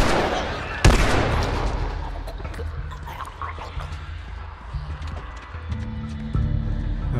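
A revolver fires in the video game The Last of Us: one sharp, loud shot near the start, followed by quieter in-game ambience and low musical tones, with someone talking over it.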